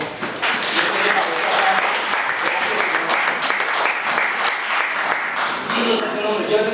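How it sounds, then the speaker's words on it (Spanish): A church congregation bursts into sustained, dense applause filling the hall, loud and steady for several seconds with voices mingled beneath the clapping. "Ahora un aplauso, por favor."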